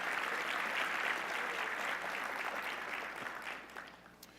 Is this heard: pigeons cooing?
no